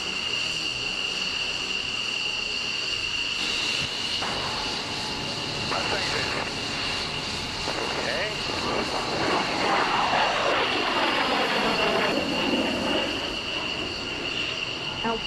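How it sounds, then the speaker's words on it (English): Jet aircraft launching from an aircraft carrier deck, a loud sustained roar with a steady high whine and a rising sweep of engine noise building toward the end, with radio voices under it. "You are cleared for takeoff."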